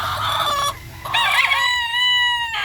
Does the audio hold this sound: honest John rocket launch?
no